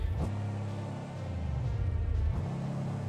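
In BeamNG, a car with an HMT diesel inline-six exhaust idles in a steady, low throbbing rumble, close and even, with a couple of brief blips in engine note.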